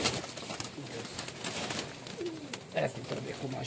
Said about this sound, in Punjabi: ਇਹ ਕਬੂਤਰ ਦੇਖੋ ਮਾਸ਼ਾਅੱਲਾ ਜੀ